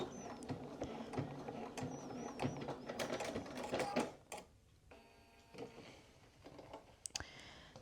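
A sewing machine stitches a waistband on a pair of pants, its close, busy mechanical clicking and whirring running in bursts for several seconds before easing off near the end.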